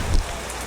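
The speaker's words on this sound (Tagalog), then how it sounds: "Sobrang lakas na ng ulan." Heavy downpour during a typhoon, a dense steady hiss of rain pounding close by with a brief low thump at the start.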